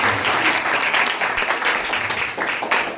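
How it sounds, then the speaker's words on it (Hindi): A church congregation at a Hindi Christian worship service claps loudly, a thick continuous burst of applause close to the room's microphone, alone with no speech over it. "जोरदार ताली"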